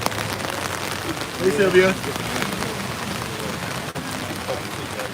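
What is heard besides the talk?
heavy rain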